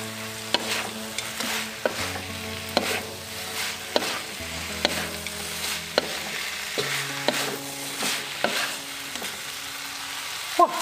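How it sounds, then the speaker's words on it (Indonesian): Spicy balado potatoes with chicken gizzards and liver are stirred in a pan, a soft sizzle with repeated scraping knocks of a utensil against the pan at an irregular pace, close and with no talking. "Kita langsung aduk-aduk, kita campurkan bumbunya dengan bahan-bahan yang ada."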